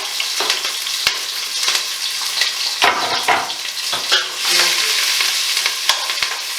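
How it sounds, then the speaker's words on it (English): Green pepper and onion fry in hot oil in a pot, a steady bright sizzle broken by irregular stirring scrapes and clicks, close and fairly loud, with no talking. "And then we're going to put our green pepper and onion together."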